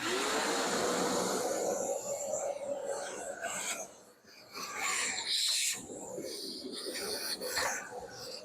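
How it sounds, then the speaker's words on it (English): A shop vacuum sucks up sawdust around a mini table saw, its steady broadband rushing roar running throughout with rasping scrapes as the nozzle drags, briefly dipping midway before resuming loud and close. "Let me vacuum this up really quick."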